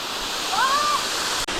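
Waterfall on a hike, a steady loud roar of falling water filling the scene, with a brief faint voice-like whistle riding over it.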